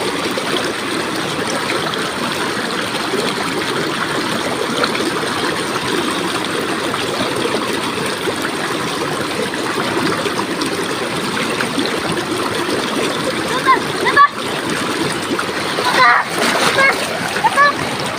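Strong water current rushing and splashing at Bolinao Falls, a loud continuous roar close by, with voices talking over it.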